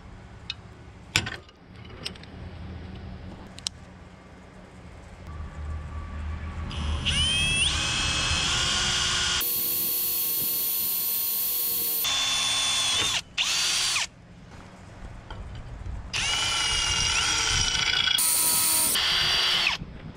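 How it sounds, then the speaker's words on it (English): Power drill boring a bit through metal while mounting a compact tractor loader valve, with whining motor runs that start and stop, bursts of grinding and ratcheting, close and loud. "I could throw a drill bit right through this hole here, and it'll guide me right on through the metal here"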